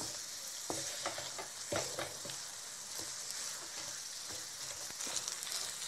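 A bread halwa mixture of bread, milk, ghee and sugar being stirred in a pan, with a soft, continuous sizzle and repeated scrapes and taps from the spoon.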